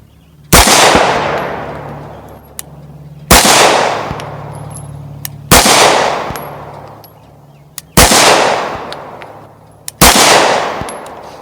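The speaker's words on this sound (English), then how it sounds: "let's go ahead and shoot weak hand P07, starting off in double action" Five loud, sharp pistol shots from a CZ P07 fired weak hand in double action at a range, evenly spaced a couple of seconds apart, each a hard crack ringing out into a decaying echo, with no talking.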